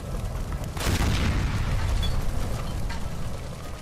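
A gas line explodes in the L.A. Noire video game, a sudden deep boom followed by a sustained rumbling roar that stays loud and slowly settles.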